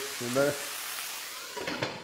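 A brief clatter is followed by a steady hiss of water and soy sauce sizzling in a hot stir-fry pan, fairly quiet, with a soft bump near the end.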